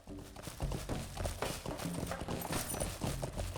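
Horse hooves clip-clopping in the video game LOTRO, a quiet, steady rhythm of hoofbeats under faint background sound.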